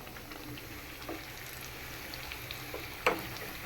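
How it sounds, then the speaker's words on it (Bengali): Onion and garlic fry in a pan for dal, a quiet, even sizzle with a few light clicks and one sharper clink near the end. "পেঁয়াজ রসুনটা ভাজা হয়ে গেছে"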